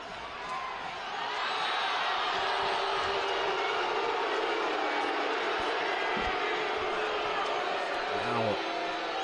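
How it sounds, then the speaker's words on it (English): A large stadium crowd at a New Mexico United vs Las Vegas Lights FC soccer match roars in a continuous, far-off wash of noise that swells after the first second and holds steady. "crowd starting to grow a little frustrated here following that recent call"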